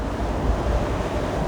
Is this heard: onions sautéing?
no